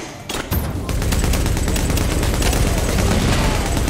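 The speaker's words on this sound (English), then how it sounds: "That stupid machine gun thing." Sustained machine gun fire in The Division video game, a rapid unbroken stream of loud close shots starting after a brief lead-in and running steadily to the end.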